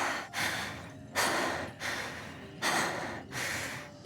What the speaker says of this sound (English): She is heavily panting.